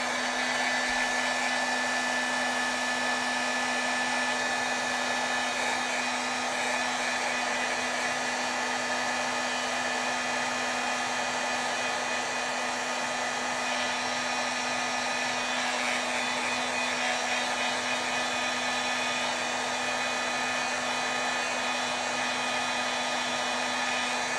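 Handheld heat tool blowing steadily to dry metallic gold ink on glossy paper, a constant whirring fan hum with airy hiss that runs unbroken throughout, no voices.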